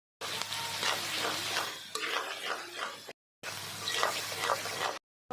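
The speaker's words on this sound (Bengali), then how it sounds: "ক্যাপসিকামটা আর আলুটা আমি ভালো করে ভেজে নেব" Capsicum and potato pieces fry with ginger, garlic, salt, red chili and turmeric in a pan, giving a bright sizzle broken by scraping stir strokes, fairly close, with two short silent gaps.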